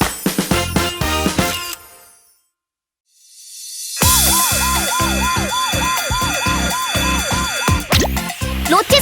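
A police car siren in a Korean children's song about vehicles, a loud rhythmic wailing tone repeating steadily over bouncy music after a brief silent gap.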